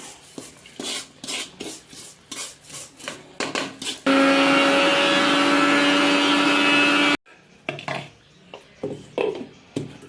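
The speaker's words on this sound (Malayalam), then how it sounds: "നമുക്ക് തേങ്ങ അരക്കാം" A mixer grinder grinds coconut in a home kitchen, one loud, steady whirring roar of about three seconds, with knocking and scraping handling sounds before and after.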